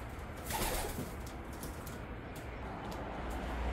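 Racing pigeons in a breeding loft giving soft, low cooing calls over a steady background rumble, faint and somewhat distant.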